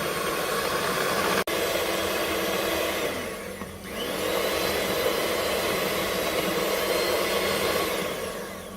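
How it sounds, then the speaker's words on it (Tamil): Kitchen mixer blending a homemade ice cream mixture until fluffy and creamy, a steady broadband motor whir running nonstop, with one sharp click and a brief dip in the middle before the drone resumes at full strength. "அது வரைக்கும் நம்ம பிளெண்ட் பண்ணணும்."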